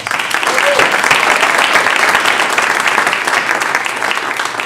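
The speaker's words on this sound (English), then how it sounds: "Give them another round of applause." A school audience at a beginner band and orchestra concert bursts into dense, sustained applause that swells quickly and holds steady for several seconds, loud and close, with some voices mixed in.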